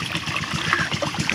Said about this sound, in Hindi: ये देखो पानी आना शुरू हो गया है।